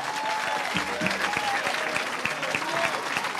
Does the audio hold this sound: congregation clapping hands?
yes